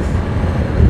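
Wind rushing past a motorcycle on a highway near Pune, a loud, steady low roar and buffeting that fills the moment without any voices.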